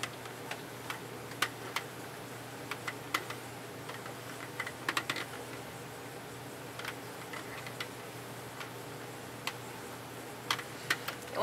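A Sentro knitting machine being cranked by hand, producing a continuous low mechanical whir with irregular light plastic clicks and ticks throughout, close and fairly quiet.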